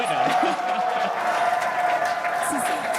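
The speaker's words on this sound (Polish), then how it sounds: "Everyone's cheering as we get into T-minus 5 minutes." A large crowd cheers and applauds ahead of a SpaceX Starship orbital test launch, a dense, steady roar of clapping heard from some distance, with a commentator's voice talking over it.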